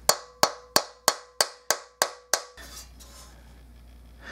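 Mallet tapping a stuck valve out of a Bach Stradivarius trumpet during an overhaul: eight sharp, evenly spaced metallic knocks up close, followed by a low hum and faint handling noise.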